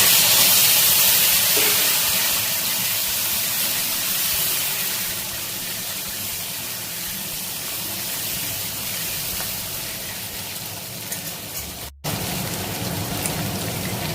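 Steady hiss of potatoes and pumpkin sizzling in hilsa fish oil in a pan, a continuous close frying crackle with no talking, briefly cutting out near the end.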